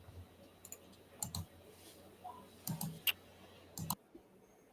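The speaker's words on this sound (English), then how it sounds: "Guys, with the typing, stop." Scattered, uneven clicks and short taps from a computer keyboard and mouse, fairly faint against a quiet room, with irregular bursts spread through the stretch and a near-silent end.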